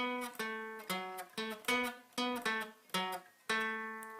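A short guitar riff of plucked notes in a quick, repeating pattern, each note sharply attacked and decaying, played up close.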